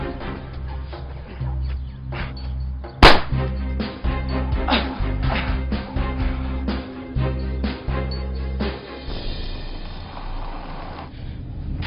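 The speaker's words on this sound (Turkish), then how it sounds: "Yine silah sesi patladı." A single sharp, loud bang cracks out early, standing above a busy background of clattering and rustling noises.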